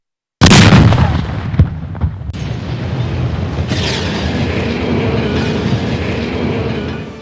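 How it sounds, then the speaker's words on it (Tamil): An 11-storey apartment building in Moulivakkam is brought down at night by implosion explosives. A sudden, powerful blast gives way to a long, loud, continuous roar of collapsing structure and rumbling debris. "இருள் கவ்விய நிலையில் வெடி வைத்து சில வினாடிகளில் 11 மாடி கட்டடம் தரை மட்டமாக்கப்பட்டதை"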